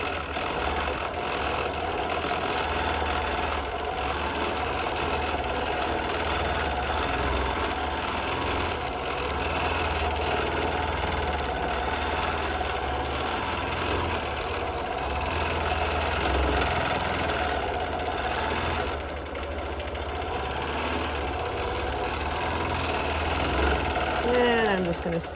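A longarm quilting machine stitches a circle in a steady mechanical run of motor hum and needle chatter, continuous and fairly loud, with a few brief voice sounds over it.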